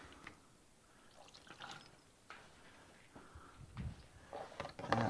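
Water splashing and trickling in an ultrasonic cleaner while a Honda motorcycle carburetor is washed, soft irregular splashes and drips rising to a few louder bursts near the end.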